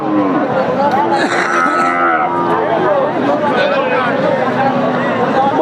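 Cattle moo repeatedly amid the steady murmur of a crowded livestock market in Chaugachha, Jashore, where thin dry cows are being bought and sold; several overlapping calls near and far over constant background chatter.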